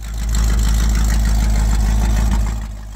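A 1979 Chevrolet Corvette V8 fitted with Fitech fuel injection idles loudly and steadily, a deep rumbling drone close by that swells slightly at the start and eases off near the end.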